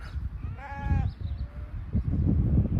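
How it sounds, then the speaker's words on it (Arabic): A sheep grazing in green Moroccan countryside gives one clear, wavering bleat, with low wind-like rumble and handling noise before and after. "خرفان مستمتعين جالسين ياكلون"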